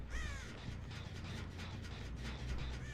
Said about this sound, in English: I heard a crow.